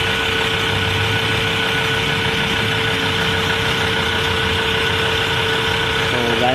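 A Mazda car engine idles steadily with the air-conditioning compressor running, a loud constant hum and drone heard close up without a break.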